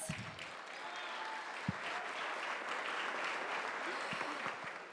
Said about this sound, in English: Round of applause for our mayor and state reps.